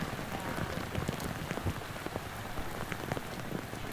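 Pouring rain at a trout stream on opening day, a steady, close hiss of drops pattering on surfaces with scattered louder splats, continuous and alone.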